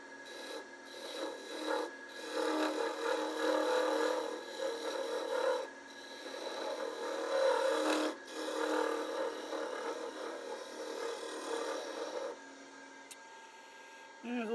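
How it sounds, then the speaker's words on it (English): Sandpaper rasps back and forth across a wooden handle in long repeated strokes, close and fairly loud, broken by short pauses between passes. "I'll sand a lot of the imperfections out."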